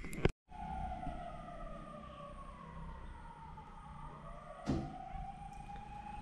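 The village ambulance's siren in rural Kenya wails in a long, slowly falling tone at moderate distance, steady and fairly faint, with a sharp knock near the start and another brief clatter later.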